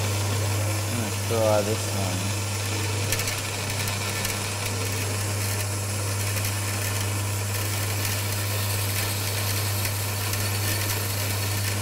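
A bandsaw hums steadily and continuously nearby while wooden box joints are fitted, with someone talking over it.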